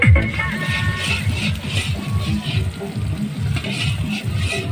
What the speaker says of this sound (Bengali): এখন চিকেন রান্না হচ্ছে।